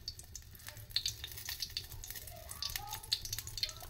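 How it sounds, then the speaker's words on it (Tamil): Mustard seeds crackle and spit in hot oil while being tempered for chutney, a scattered run of small sharp pops over a low sizzle, with no one speaking. "எண்ணெய் சூட வச்சு கடுகு மட்டும் போட்டு தாளிக்கலாம். கடுகு பொரியட்டும்."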